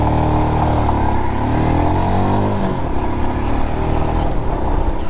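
A Royal Enfield Himalayan motorcycle engine drones steadily and loud, pitch shifting slightly as it is ridden, with continuous engine noise and no talking.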